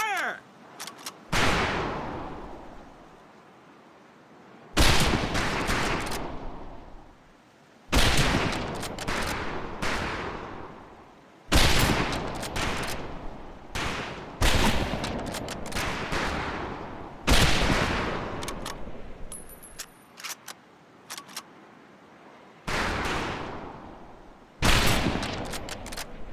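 Rifle fire on a boot camp firing range in the game Medal of Honor: Pacific Assault, loud close shots in rapid bursts separated by short pauses, repeating over and over.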